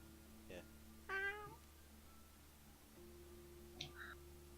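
A voice imitates a cat with a few short meows, spaced apart and fairly quiet, over a low steady hum.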